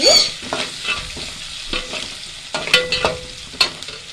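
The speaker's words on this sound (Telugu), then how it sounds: "వేసేసి ఇది కొంచెం నూనెలో ఫ్రై కానివ్వండి." Crushed garlic and curry leaves frying in oil in a pan for fish curry: a steady close sizzle with repeated scraping and clinking strokes of a stirring spoon, no talking.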